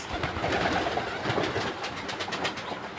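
Pigeons coo softly over a dense, steady backdrop of bird chatter, with a faint rumble underneath and no pauses.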